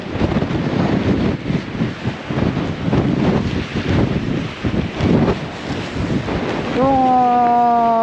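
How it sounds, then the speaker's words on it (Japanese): Strong wind roars steadily across a seaside breakwater during tuna fishing, buffeting the microphone with loud gusting rumble throughout, and a brief tonal whine rises near the end. "風でこうサワサワしてるだけなんで"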